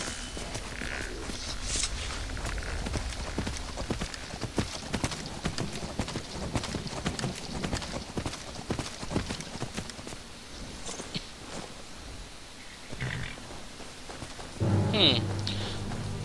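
In Skyrim, the hooves of a skeletal undead horse clip-clop steadily at a walking pace, mixed with rain and a low rumble of thunder, and a voice talks over the sound.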